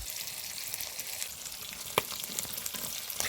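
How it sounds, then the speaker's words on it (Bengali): Chopped onion frying in hot oil in the pan where a catla fish head was fried, a steady broadband sizzle with a sharp clack near the middle and a few small pops, no voices. "এবার দিয়ে দিব কেটে রাখা পেঁয়াজ"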